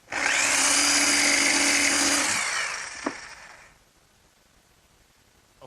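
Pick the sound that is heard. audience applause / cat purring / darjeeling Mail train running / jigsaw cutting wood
jigsaw cutting wood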